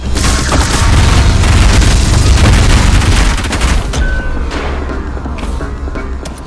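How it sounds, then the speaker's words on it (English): Rapid, dense volley of nail gun fire in the video game ULTRAKILL, a loud continuous barrage of booming shots that thins out toward the end with scattered impacts. "here's your new toy, the nail gun"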